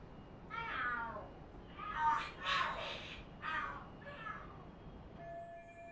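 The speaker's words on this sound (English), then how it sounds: "Oh, are there cats fighting? What are they screaming for?" Cats screeching and yowling in the video game Lost Judgment, several rising, wavering cries in bursts, moderately loud over a steady background hum.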